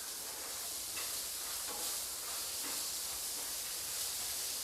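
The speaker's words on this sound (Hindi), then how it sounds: "प्याज को मैं सॉफ्ट होने तक भून लूँगी।" Onion frying in a pan hisses in a steady, even sizzle, fairly close and unbroken, with a few faint stirring scrapes and no talking.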